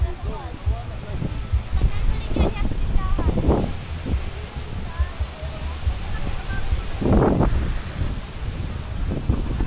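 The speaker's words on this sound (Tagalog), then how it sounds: "talagang malakas yung hangin, tsaka malakas din yung alon" Strong wind roaring across the microphone with waves surging nearby, out at sea on a jigging fishing trip, continuous and loud, while a voice talks intermittently in Tagalog over it.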